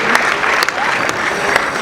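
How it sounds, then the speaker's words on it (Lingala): Crowd applause and cheering at the wedding of Patrick Tshisekedi, a dense, steady wash of clapping that holds for the whole stretch, with a few sharper hand claps standing out. "Est-ce qu'on peut acclamer pour le mariage?"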